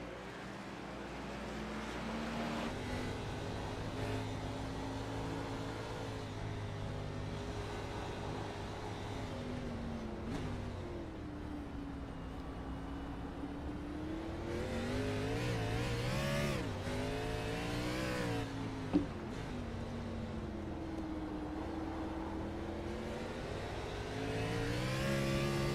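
Stock car engine roars steadily from an onboard camera during an oval race at Chicago, pitch rising and falling through throttle changes as the car chases a rival, loud and continuous with no talk.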